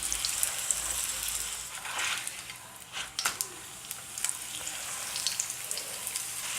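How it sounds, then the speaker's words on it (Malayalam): Porotta flatbread fries in a pan with a soft, continuous crackling sizzle, faint and fairly even, with a few slightly louder bursts of spitting oil and no voices. "ഇനി ഇത് നമുക്ക് രണ്ട് സൈഡും ഫ്രൈ ചെയ്യണം."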